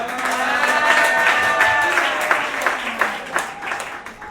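A church congregation bursts into sustained applause and cheering during a sermon on marriage, a loud, dense wash of clapping with voices rising over it, thinning into scattered claps toward the end.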